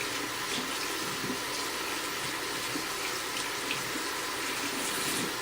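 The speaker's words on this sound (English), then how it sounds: "We'll give them a nice rinse just to make sure there's no snail eggs." Aquarium plants being rinsed under a running tap, a steady broadband rush of water splashing into a sink that continues evenly throughout, with no talking.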